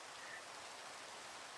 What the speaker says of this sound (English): Minecraft really likes rainy nights.